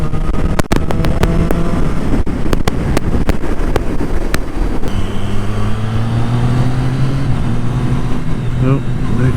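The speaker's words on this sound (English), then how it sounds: "You don't need to turn the throttle off to change gear, and it sounds brilliant." A Triumph Street Triple R 675 motorcycle revving hard under acceleration, with a series of crisp quickshifter gear changes cutting through the loud engine note. Wind noise and riding sounds run throughout.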